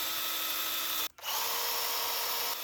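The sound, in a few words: Makita cordless pruning chainsaws cutting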